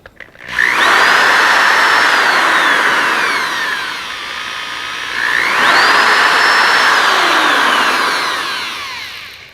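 A corded 120-volt, 4.5-amp variable-speed electric drill rated 0 to 1200 RPM is loud and close. It whines up to full speed, eases down, then revs up a second time and winds down again.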